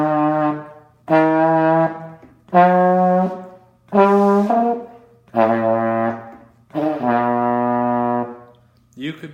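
A brass instrument plays a rising eight-note scale of separate sustained notes, each starting cleanly with short gaps between, the tone thinning toward the top.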